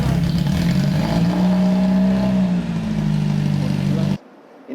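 A Toyota Corolla TE71 GT with TRD parts idling roughly and unevenly, a loud, close, droning engine that wavers in pitch before cutting off abruptly.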